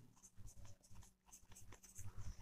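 Chalk or marker writing on a board during a class-12 chemistry lesson, quiet and fairly close, in short irregular bursts of scratchy strokes with brief pauses between them.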